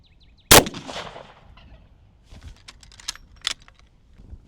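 A single sharp, loud crack from a 450 Bushmaster rifle fired into a tree outdoors, followed by faint scattered clicks and rustles.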